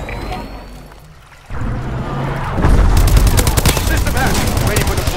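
Heavy video-game gunfire from an airborne Vulcan cannon, arriving as a loud, sustained roaring burst with booming impacts after a quieter stretch, under a game announcer-style voice.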